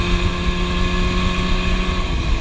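Classic two-stroke motorcycle engine fitted with DG pipes, a loud sustained buzzing drone held steady near the red line with wind noise, no talk.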